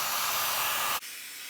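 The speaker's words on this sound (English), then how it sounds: "Now I'm gonna use my heat gun just to see the cells." A heat gun blows over acrylic pour paint with a close, steady airy roar for about a second, then shuts off, leaving a faint hiss.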